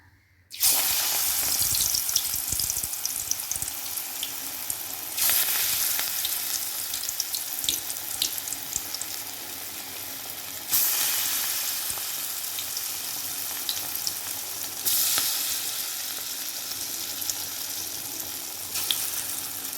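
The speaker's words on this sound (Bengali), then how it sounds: "কড়াই গরম হয়ে গেছে তেল দিয়ে দিয়েছি তেলও গরম হয়ে গেছে এখন বড়াগুলো ভেজে নেব" Chana dal lentil fritters deep-fry in hot oil, starting with a sharp burst as batter hits the pan and then a bright, dense sizzle that surges again several times as more fritters go in.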